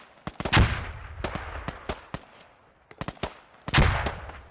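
Gunfire in the tactical shooter Squad cracks out as scattered sharp rifle shots and short bursts, with two especially loud, close reports standing out among the quicker, more distant shots.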